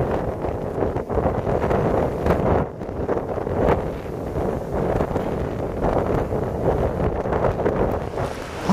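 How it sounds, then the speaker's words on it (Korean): Strong, gusting wind buffets the microphone on an open island mountain ridge, a steady loud roar with surges and dips and no voices. "바람까지 세차게 불어서"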